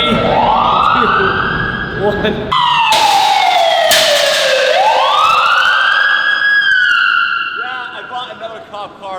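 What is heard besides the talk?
police car siren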